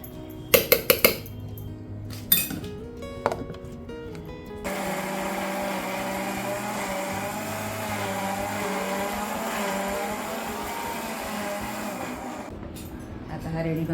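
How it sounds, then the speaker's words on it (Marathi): A kitchen mixer grinder whirs steadily as it grinds onion and coconut with a little water into a masala for a village-style seafood boil, a continuous loud drone after a few clinks of utensils. "मिक्सरला लावते, कांदा खोबरा वाटून करून घेते, पाणी टाकते जरा आणि मिक्सरला मस्त फिरवून घेईल."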